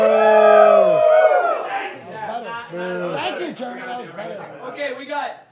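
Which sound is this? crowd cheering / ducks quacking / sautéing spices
crowd cheering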